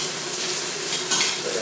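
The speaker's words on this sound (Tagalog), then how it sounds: "Mas masarap po kung bawang ay brown." Garlic browning in a hot pan for a home-cooked misua and patola dish, a steady close sizzle and crackle with a brief brighter burst of spatter near the end, no talking.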